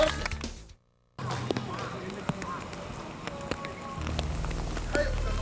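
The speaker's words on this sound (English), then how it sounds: "Unfortunately, it is raining." Rain falls on an outdoor baseball field in Shizuoka, a soft continuous hiss with scattered ticks and taps, broken by a brief silent gap, then swelling slightly louder near the end, with voices faintly present.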